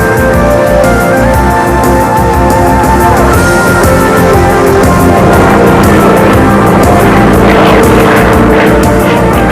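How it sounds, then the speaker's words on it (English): Loud propeller aircraft engines, including twin-engine planes and a Provost, drone continuously at the 1989 Schneider Trophy air race, several overlapping as planes pass, with a rising and falling roar throughout. "Several twin-engine planes in the race."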